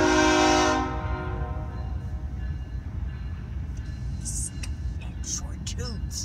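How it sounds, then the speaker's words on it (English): A CSX freight train horn blasts loudly for under a second, a short toot, then gives way to the heavy low rumble of the passing train, with faint squeals and rattles. "some of the trains going through town, the engineers do that. They have little short toots."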